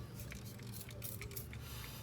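Faint, short spray bursts come one after another over a low background hum.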